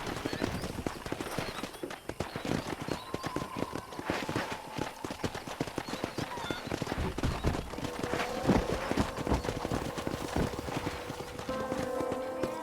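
Horse hooves clip-clop steadily in the Western video game Red Dead Redemption, a brisk continuous trotting rhythm close by, with a brief whinny and faint game voices partway through.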